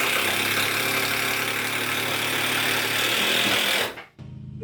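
A powered driver running a screw up through a plate into a spacer in a shed ceiling: a loud, continuous motor whine and rattle lasting several seconds, then stopping abruptly, leaving a quiet room.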